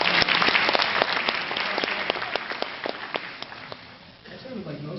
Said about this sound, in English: Can I hear a round of applause for freshmen?